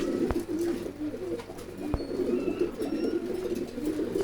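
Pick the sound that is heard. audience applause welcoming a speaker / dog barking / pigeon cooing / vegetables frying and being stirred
pigeon cooing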